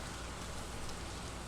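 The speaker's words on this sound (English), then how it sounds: "so rainy day" Steady rain in the farming video game Stardew Valley, a dense, even hiss of falling drops that stays constant throughout, with no voices.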